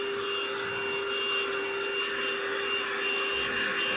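A Lidl cordless hoover-style vacuum cleaner runs over carpet with a steady, close whirring drone and a constant high motor whine, with no talking.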